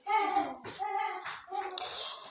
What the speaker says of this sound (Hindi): पीछे काफ़ी बच्चों का शोर हो रहा है